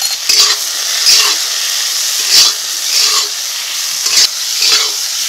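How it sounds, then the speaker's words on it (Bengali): Mango pieces fry in a hot pan, giving a steady loud sizzle with scraping stirs that repeat roughly every second, a spatula working them in bubbling oil. "আমটাকে একটু ভেজে নিয়েছি"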